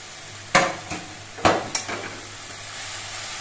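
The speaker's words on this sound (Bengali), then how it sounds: "শাকগুলো দিয়ে নেড়ে চেড়ে তেলের সঙ্গে বেশ ভালো করে মিশিয়ে নিতে হবে।" Jute leaves with chopped green chillies are stirred in hot oil in a pan, giving a few sharp scraping clatters from the spoon over a low, steady sizzle.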